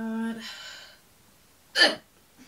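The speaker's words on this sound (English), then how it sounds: "Why do I always get the hiccups?" A single sharp hiccup pops out close and loud after a short stretch of a voice, followed by quiet and a faint breath.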